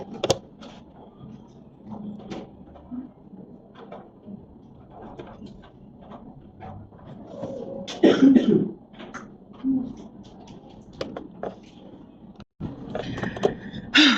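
A single sharp sneeze bursts out indoors midway, standing out from quiet rustling, scraping and small handling noises at a desk.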